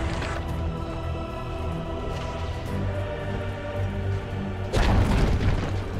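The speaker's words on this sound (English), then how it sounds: "Dire's top tower has fallen." A defensive tower collapsing in a Dota 2 match, the Dire's top tower going down as a heavy rumbling boom erupts late in the moment over steady game music and battle noise.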